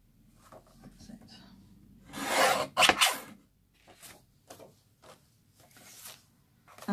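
A blade slices a strip of card on a scoring board, giving a brief, close rasping cut, with lighter rubs and paper handling sounds around it.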